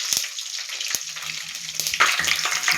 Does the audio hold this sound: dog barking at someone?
no